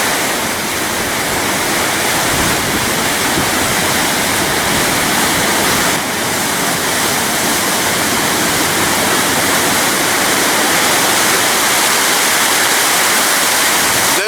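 Floodwater from a storm-swollen tributary pours off a waterfall beside an old Erie Canal wall, a loud, steady broadband roar of rushing water that holds unchanged throughout with no voices.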